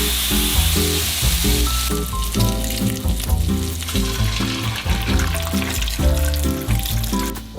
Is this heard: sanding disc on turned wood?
no